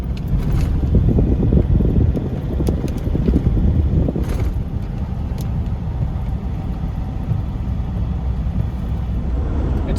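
A car cruising through rural Victoria gives a continuous low engine and tyre rumble with a few faint knocks and no voices.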